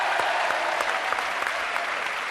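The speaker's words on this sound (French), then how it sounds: "Applaudissements" Studio audience applauding steadily on a French television game show after a contestant wins, a dense, continuous clatter of clapping with no voices over it.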